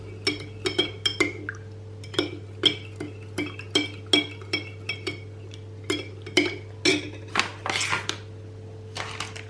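A spoon stirs a ryazhanka-based milk dessert in a bowl, sending out a steady run of bright metallic clinks against the sides with a constant low hum underneath.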